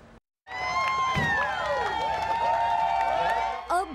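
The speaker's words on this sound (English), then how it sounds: "A big cheer for the red carpet arrivals" A crowd cheers red carpet arrivals at a special needs prom held at a church in Mesa. Excited shouts and high cheering voices overlap loudly for several seconds after a brief silence.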